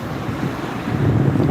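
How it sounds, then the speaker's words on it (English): Wind buffets a microphone on the Brighton seafront, a rough, low rumbling roar that swells louder toward the end. "I apologise for the wind."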